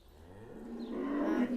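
Holstein dairy cows grazing in a field, one long, low moo that swells and rises in loudness, heard alone without talk.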